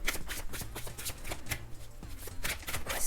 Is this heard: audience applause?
no